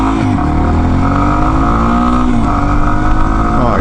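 A Yamaha XT250 dual sport motorcycle's single-cylinder engine runs loud and close, holding a steady drone with slight rises in pitch, alone with no talking.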